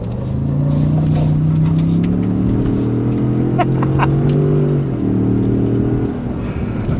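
A 2024 Ford F-150 Tremor pickup truck engine revs hard and climbs in pitch, holding a loud steady drone before easing off near the end.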